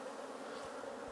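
A dense, steady hum of honey bees swarms around an open hive during a colony inspection, close and continuous with no voices.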